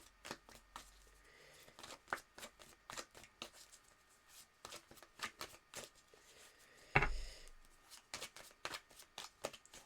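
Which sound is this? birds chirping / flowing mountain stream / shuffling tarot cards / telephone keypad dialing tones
shuffling tarot cards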